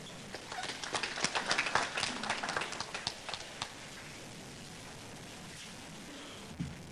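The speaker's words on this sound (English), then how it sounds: "Let's once again applaud the alumni representative." An audience applauds at a Mount Kenya University graduation ceremony, with dense, fairly distant clapping that peaks early and then thins out to scattered claps.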